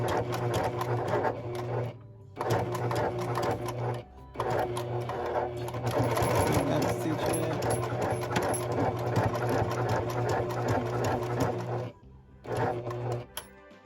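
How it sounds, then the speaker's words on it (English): Electric sewing machine stitching sandal pieces back and forth for a Dior-inspired block-heeled sandal, a loud steady mechanical whir running in several bursts with short pauses between them. "I'll just sew up here, back and forth in a square to really secure this really well."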